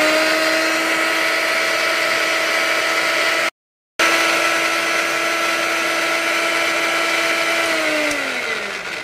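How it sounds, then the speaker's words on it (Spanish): A kitchen blender whirs steadily as it liquefies grated bar soap, a loud constant motor drone with a brief cut in the middle, then slowing and winding down near the end. "lo vamos a licuar por unos"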